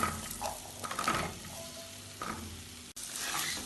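Small potato cubes and spice powders sauté in a pan for a Kerala vada koottucurry, a soft steady sizzle with faint stirring scrapes, close but quiet.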